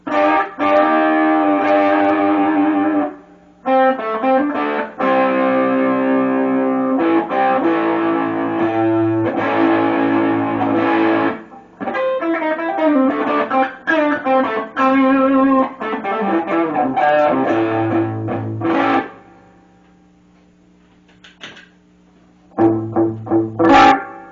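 Gritty electric guitar through an overdrive pedal plays chords and short phrases, loud and close, with a brief pause before a final burst.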